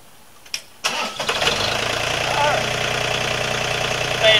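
A tractor engine cranks and fires after a couple of short clicks, then settles into a loud, steady mid-pitched idle close by, with wood splitting for kindling as the job at hand.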